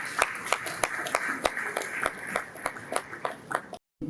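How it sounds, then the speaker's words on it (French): A modest conference audience claps: a scattered, uneven patter of individual hand claps at close range, some louder than others, ending in a brief cut to silence. "Est-ce qu'on peut l'applaudir bien fort?"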